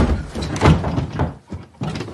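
A door slams shut during a domestic argument, giving a heavy thudding impact followed by rattling and knocking, loud and close, with a few further bumps afterward and no speech over it.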